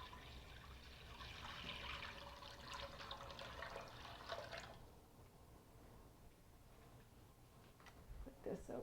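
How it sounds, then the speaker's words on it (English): Cold water pours from a tap into a soup pot in a home kitchen, a steady broadband rush for about five seconds. It then stops, leaving faint room noise and a few small clinks near the end. "Start with nice cold water."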